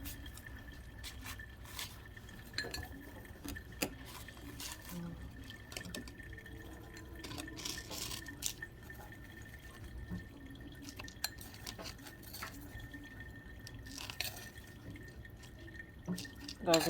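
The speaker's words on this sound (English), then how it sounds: "Guys, if you hear some water in the background, I'm filtering water." Water drips and trickles while being filtered in a quiet indoor space during sedum repotting, with faint scattered drops and light glassy taps running in the background throughout.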